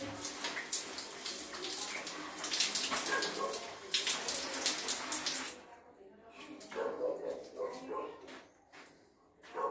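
Water runs and splashes in a bath during an elderly man's bathing, loud and broadband for about six seconds before easing into softer intermittent splashes, with voices and a dog barking mixed in.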